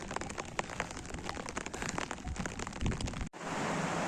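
Steady rain patters densely on a hard surface nearby in a mountain pasture, a constant hiss of drops, then briefly cuts out before resuming as a smoother wash.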